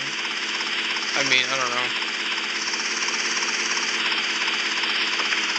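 A Police Maverick helicopter in the video game Vice City gives a steady, loud engine and rotor drone throughout while someone talks briefly over it.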